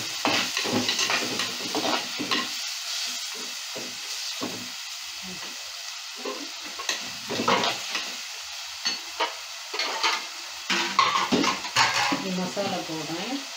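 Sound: tomatoes and salt being sautéed in a clay pot

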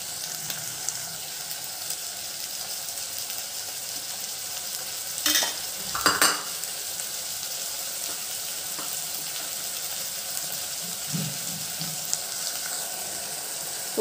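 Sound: tomatoes frying and being stirred in curry pan

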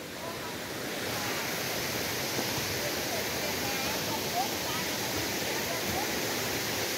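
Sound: Itaipava mountain waterfall

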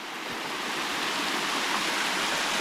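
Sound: waterfall in a forest

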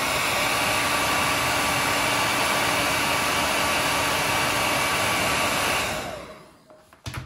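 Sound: hairdryer drying paint on a duck decoy

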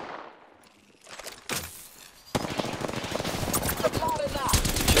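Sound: gunfire in video game Apex Legends

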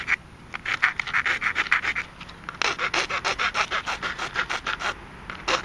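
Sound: filing notches on PVC longbow tips

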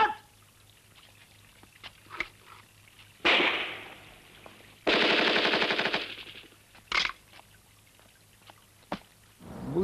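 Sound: automatic gun firing in a film

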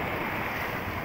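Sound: sea waves at a beach where a fishing boat landed

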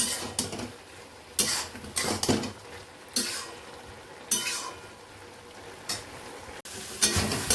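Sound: cabbage cooking in a pan

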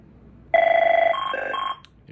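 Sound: Lucent/Avaya Definity 8434DX office telephone ringing

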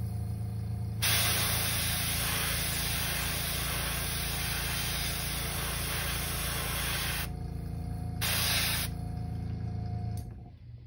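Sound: airbrush spraying paint on a crankbait lure

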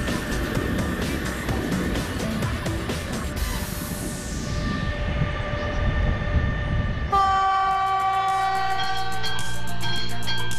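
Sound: railway locomotive starting off

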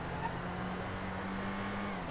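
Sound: car accelerating in GTA V video game

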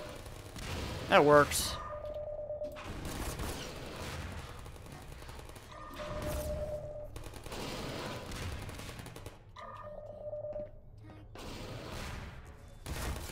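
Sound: turrets firing in the video game Portal

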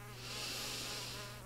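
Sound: yellow fever mosquito (Aedes aegypti) buzzing in flight

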